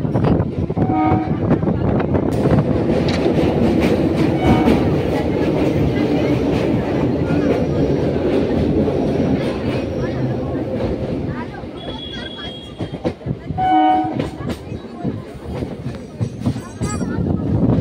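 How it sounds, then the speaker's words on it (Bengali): A passenger train leaving Ranaghat toward Kalyanpur rumbles loudly with steady clickety-clack, bursts of a horn and squeal appearing later; heavy continuous rail noise fills the whole stretch, close by from onboard. "15 মিনিট পর ট্রেনটা ছাড়লো।"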